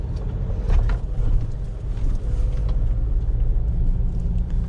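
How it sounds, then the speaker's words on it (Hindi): Low, continuous diesel engine drone heard from inside a moving Tata Safari SUV on hill roads, with road rumble and faint wind, no talking. "डीजल इंजन है और इतनी आवाज़ आना मेरे ओपिनियन में कोई बुरा नहीं है।"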